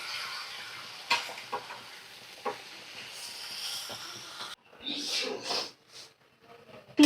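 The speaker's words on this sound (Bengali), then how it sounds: "তিল বাটা দিয়ে ভালো করে কষিয়ে নিয়েছি দেখো চিকেনটা" Chicken pieces frying in a pan with ground sesame paste, giving a soft hiss and sizzle with occasional stirring scrapes, and a person talking over the cooking.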